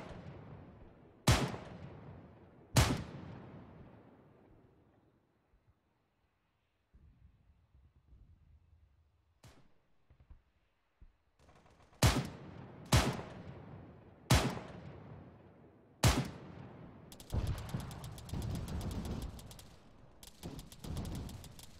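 Heavy gunfire from a helicopter gunship strafing close to friendly troops in Arma 3: several sharp, loud booming shots in two clusters, then a rapid rattling burst near the end, with quieter rumbling gaps between.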